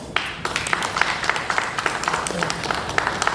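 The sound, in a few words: audience applause at drama festival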